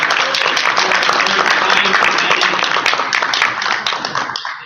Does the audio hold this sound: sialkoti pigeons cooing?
no